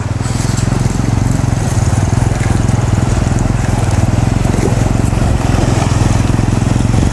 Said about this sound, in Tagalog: hindi mamatay ng makina ng aking motor